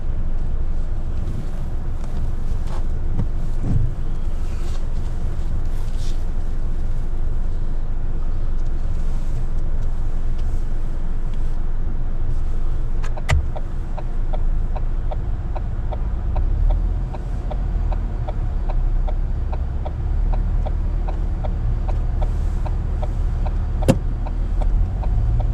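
A car moves off and keeps driving during a driving test, with a steady low engine and road rumble, wind noise and a few faint clicks and knocks inside the cabin, continuous for the whole stretch.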